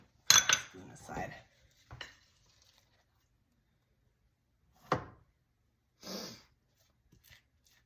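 A spoon clinks and scrapes against a mixing bowl while muffin batter for banana blueberry muffins is portioned, a few sharp knocks and scrapes separated by quiet gaps.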